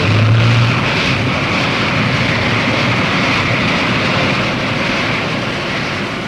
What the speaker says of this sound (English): Marinized gas turbines provide the power required to keep the ship foil-borne.